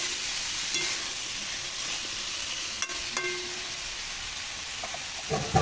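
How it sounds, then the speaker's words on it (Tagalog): Vegetables and chicken breast are stirred in a pan, with a steady broadband sizzle and hiss under occasional utensil clinks and scrapes, close and continuous. "Haluin ang haluin hanggat sa mahilo."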